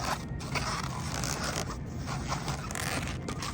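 A rubber party balloon being folded, pinched and twisted into a loop twist, giving a steady run of close squeaky rubbing and creaking with no talk.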